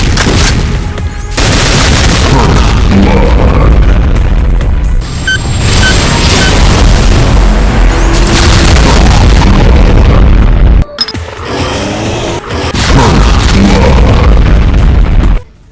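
Rapid weapon fire from the DBFG in a Doom mod fills the whole stretch with dense, loud, continuous booming blasts and bursts. The barrage breaks off briefly twice before resuming.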